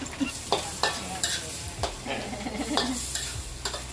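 Food stir-fries in a hot pan in a rustic Thai wild-food restaurant kitchen, with steady sizzling and repeated scraping, clanking strokes of a spatula close by, and only faint background noise.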